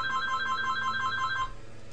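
A telephone rings with a rapid, repeating electronic trill in steady bursts for about a second and a half before cutting off, with faint room tone underneath and no voices.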